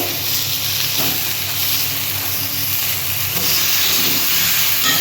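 Potatoes and pointed gourd fry together in hot oil, a loud, dense, unbroken hissing sizzle that stays steady and close for the whole few seconds.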